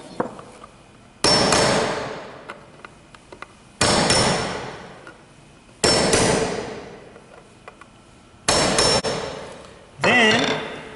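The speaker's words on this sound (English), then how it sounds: "take your nail set, and you want to set the nails below the surface" Hammer blows driving a nail set to sink nails slightly below the surface of a wooden birdhouse: five sharp, loud strikes spaced about two seconds apart, each ringing briefly before fading.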